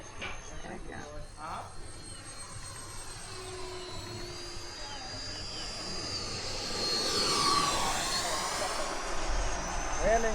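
A model jet aircraft flies a pass over Fritz Field on a hot day, its turbine whine rising and swelling as it sweeps closer, with voices talking faintly underneath.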